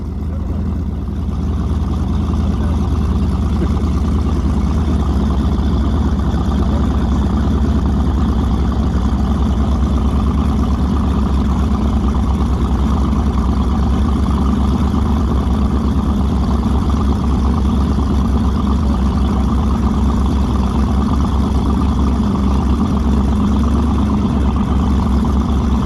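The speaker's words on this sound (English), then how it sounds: "I think that's what a Ferrari sounds like, doesn't it?" Small boat engine lifting big boats, with exhaust mounted high, runs continuously at close range with a steady low rumbling drone and no voices.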